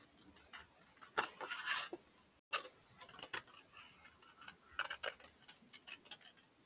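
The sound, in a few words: scissors cutting a shape from an index card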